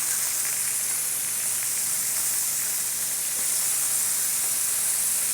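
Chicken thighs for lemon chicken sizzle and hiss steadily in a hot pan as they are flipped one piece at a time, a constant bright frying crackle with no talk.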